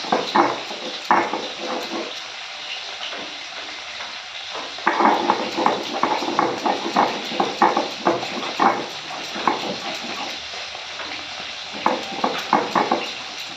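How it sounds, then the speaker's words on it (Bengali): Spices ground on a shil-nora grinding stone for a pomfret dish, with repeated scraping, rubbing strokes of stone on stone in bursts and short pauses, close and fairly loud. "আজকে শিলনোড়ায় বাটছি"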